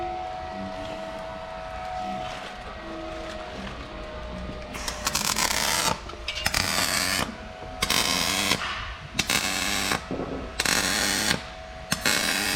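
A power tool grinds Bondo filler in short, loud bursts separated by brief pauses, following a stretch of lower, steadier machine noise.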